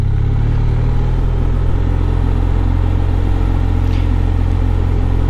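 Motorcycle engine rumbling steadily and loud throughout a 3-2 downshift with a slight throttle rev match, a low continuous drone with only subtle change in pitch.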